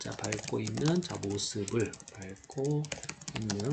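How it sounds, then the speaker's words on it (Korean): Quick keyboard clatter runs beneath someone speaking steadily up close, the typing light and continuous under the voice. "타이핑이 좀 늦네요."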